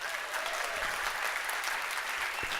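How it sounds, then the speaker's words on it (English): At an opening event in San Francisco, an audience gives baton twirlers a steady, dense round of applause with many hands clapping together at a moderate distance. "Big round of applause for our lovely baton twirlers."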